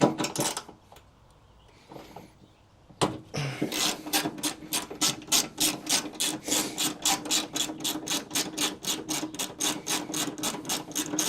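Ratchet with a socket extension backing a bolt out of a Mazda Miata: a few scattered clicks and a quiet gap, then a long, rapid, even series of close ratcheting clicks that continues to the end.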